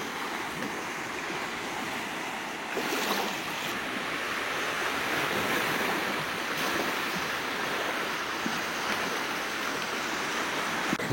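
Waves break continuously on a small Caribbean beach at Puerto Viejo, Costa Rica, a steady broadband surf wash with some wind buffeting the microphone, no voices.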